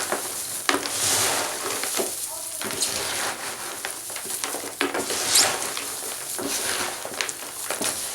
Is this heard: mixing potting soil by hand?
yes